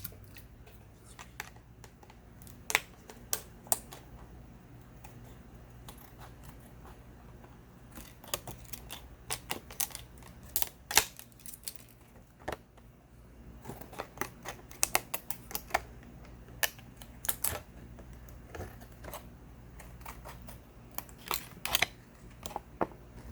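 Scissors cut through plastic packaging from a phone screen on a repair-shop bench, making sporadic sharp snips and crinkly clicks at a low, close level.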